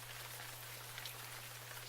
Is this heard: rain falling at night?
yes